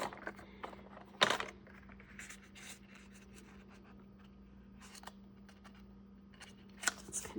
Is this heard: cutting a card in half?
yes